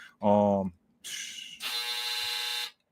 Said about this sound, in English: Oh man, yeah, that's the buzzer.